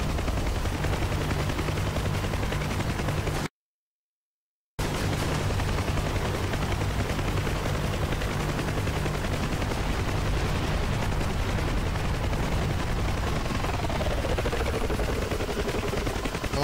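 Sustained helicopter gunfire during a DCS combat flight-sim PvP dogfight, a dense continuous roar of rapid shots over a steady rotor drone, broken by a brief silent gap, with a faint descending whine near the end.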